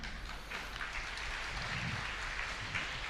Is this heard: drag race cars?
no